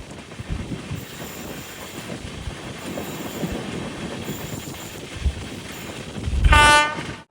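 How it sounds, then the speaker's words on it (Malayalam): Express passenger train on an Indian railway pulling into Tenali Junction, a steady rumble of wagons rolling under a continuous hum, then a loud, sharp horn blast near the end with a brief wheel squeal. "ട്രെയിൻ ഇപ്പോൾ തെനാലി ജംഗ്ഷനിലെത്തിയേ"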